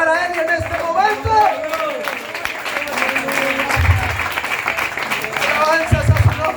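A church congregation at an evangelistic campaign service claps and applauds loudly and steadily for several seconds, a dense crowd sound with voices mixed in.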